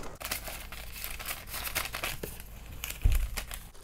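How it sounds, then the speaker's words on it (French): A paper letter crinkles and rustles as it is slid into an envelope, with a run of soft, close crumpling and sliding sounds and a slightly firmer rustle near the end, with no talking. "je vais prendre mon enveloppe et je vais insérer mon courrier à l'intérieur"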